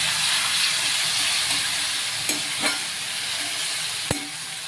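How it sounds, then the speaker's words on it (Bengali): Spice masala with garam masala powder frying in oil for ghugni, a loud dense sizzle running throughout, with a few sharp spoon clicks against the pan and no voices. "দেখো, মশলাটা কষছে, তেল ছাড়ছে"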